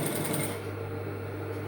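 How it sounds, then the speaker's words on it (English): A sewing machine stitches a dress zipper with a steady, close mechanical hum and whir, louder at first before settling into a quieter continuous drone. "as you are sewing, you are removing the pins."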